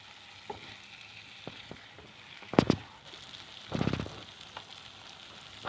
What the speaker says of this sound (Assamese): এতিয়া লাহে লাহে মই মাছখিনি অলপ ভাজি ল'ম।